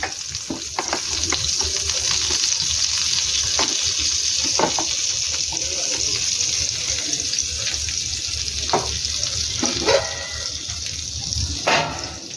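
Loud, continuous sizzling and frying as butter goes into a hot oiled pan for tandoori chicken, with occasional spoon scrapes and stirring knocks throughout.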